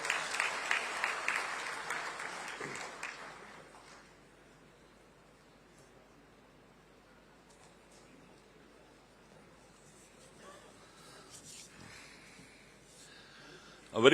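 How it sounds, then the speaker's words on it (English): Hearty audience applause at a chartered accountants' conference attended by Gujarat's Chief Minister, loud and dense for about four seconds, then fading to a quiet hall hum with faint rustles before a brief burst at the end. "A big round of applause."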